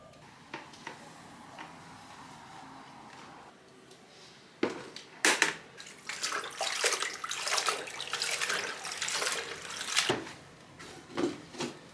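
Dirty cleaning water being poured out and changed during a household cleaning day, heard as quiet clinks at first, then loud, sustained splashing and running water with short breaks.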